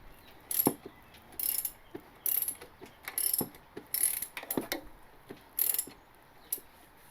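A turbo Honda Civic engine is turned over by hand with a ratchet, giving quick bursts of crisp metallic clicking separated by short pauses, close and fairly quiet.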